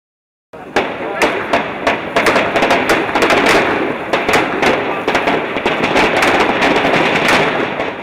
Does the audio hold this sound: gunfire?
yes